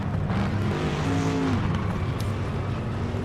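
Stock Corvette engine in the racing game Project Motor Racing, a steady loud drone with rising and falling tonal pitch throughout, continuous with no pauses and no voices.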